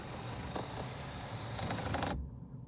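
A steady mechanical whirring and grinding hum of the motorized glass panoramic moonroof on a 2006 Honda Civic 5-door hatchback sliding, running continuously before cutting off abruptly near the end.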